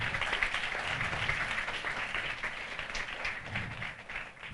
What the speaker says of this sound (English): Kindly a round of applause for the distinguished panelists.